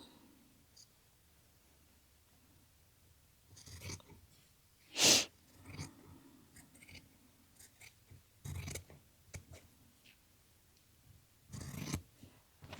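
Denim jacket fabric is cut in short, sparse snips separated by long quiet pauses, one cut noticeably louder than the rest, with faint rustling of the material in between.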